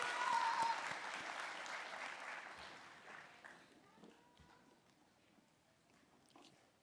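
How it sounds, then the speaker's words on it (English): A crowd claps for nursing graduates filing off the stage at a graduation ceremony, steady applause that starts full and slowly thins and fades toward the end. "One more round of applause for this group as they leave the stage."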